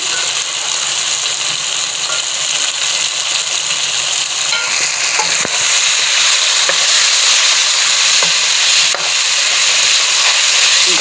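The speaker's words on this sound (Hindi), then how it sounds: "थोड़ा थोड़ा डाल के इसमें हम फ्राई कर लेंगे।" Mutton frying in a karahi as leftover mutton stock is added a little at a time, giving a steady loud sizzle with stirring scrapes and occasional clicks throughout.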